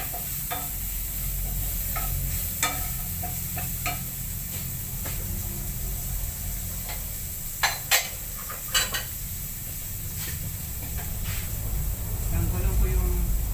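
Garlic for pork adobo fries in hot oil with a constant low sizzle, while a metal utensil clinks and scrapes against the pan at irregular moments nearby.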